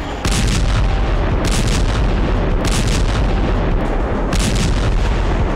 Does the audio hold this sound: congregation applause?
no